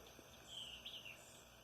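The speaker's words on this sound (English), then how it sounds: "Hearing the birds." A short, thin bird song rises faintly over a steady background hum, with a brief pair of high whistled phrases in the middle.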